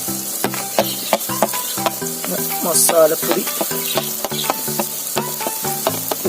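Chicken liver with turmeric and coriander powder frying in a pan for a spicy pepper roast, a steady loud sizzle with repeated sharp stirring clinks and scrapes against the pan, a brief word spoken over it.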